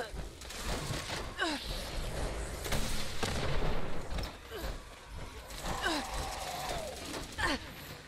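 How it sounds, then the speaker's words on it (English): Rocket fire and explosions in the online game Fallout 76 come as a rough run of booms and blasts over constant rumbling noise, loud and close, with a few whooshing sweeps and a person talking intermittently. "Hitting him with rockets this time."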